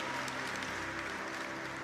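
Church congregation applause during a sermon, a soft continuous patter of many hands clapping, fairly distant and even, with a faint low hum beneath.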